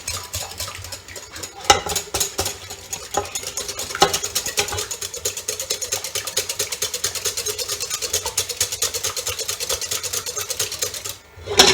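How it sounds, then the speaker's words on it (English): Rapid, steady clicking of a whisk beating chocolate mousse in a bowl, fast and even throughout at close range, with no talking. "So as you whisk it, you would see the chocolate starts thickening."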